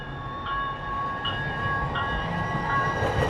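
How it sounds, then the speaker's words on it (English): A Minneapolis Metro light rail train, a short two-car consist, rolls past near the Stone Arch Bridge, giving a steady low rumble with sustained high tonal whine and faint wheel squeal, close and continuous with no talking. "the train that we just saw go by us only had 2 trains"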